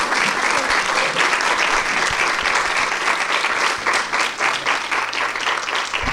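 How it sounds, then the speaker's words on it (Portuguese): An audience at a televised Women's Day programme breaks into strong, sustained applause, dense steady clapping close by that fills the room for several seconds with no talk over it. "Fortíssimo aplauso para o Luiz."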